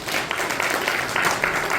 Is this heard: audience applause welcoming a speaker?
yes